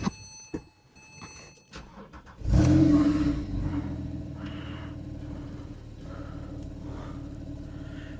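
A Porsche 911 Carrera 4S of the 997.2 generation cranks and fires into a loud, close start-up flare, then settles into a steady, rumbling idle that holds for several seconds, with a few faint clicks heard just before ignition.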